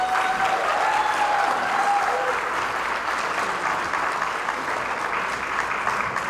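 A room of guests claps for a young speaker at an organization's annual gala, dense even applause that holds steady and eases slightly near the end, with faint voices underneath.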